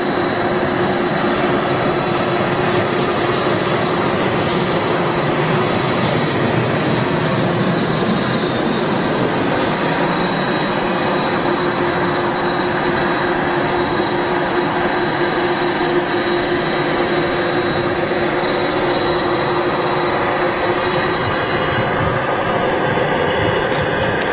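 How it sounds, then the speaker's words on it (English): A Boeing 747 with CF6 jet engines at Manchester Airport roars loudly and steadily for the whole stretch, a broad jet rumble with a high whine running through it. "CF6 power on the this particular 747."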